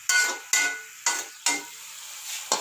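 Ingredients for matar pulao being stirred and fried in a pot: four or five sharp scraping stirs, each followed by a fading sizzle, close and fairly loud with no talking.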